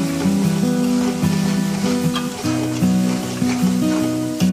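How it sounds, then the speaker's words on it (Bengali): Onion paste frying in the leftover oil from frying rohu fish, a dense, steady close sizzle with crackling spatters and occasional stirring scrapes. "আমি ওই মাছ সাঁতলানো তেলের মধ্যে দিয়ে দিচ্ছি পেঁয়াজ বাটা।"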